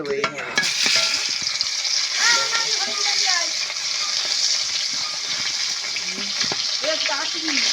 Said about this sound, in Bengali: শোল মাছটা আমি নেড়ে দিচ্ছি